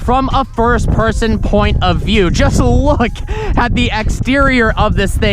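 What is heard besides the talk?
No everyday noises stand out.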